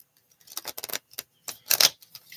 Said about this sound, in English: I'm just going to give one more shuffle on this deck.